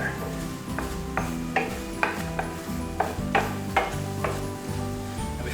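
Bacon jam with bourbon bubbles and sizzles in a pan as it cooks down, with regular spoon taps and scrapes against the pan over a steady background hum.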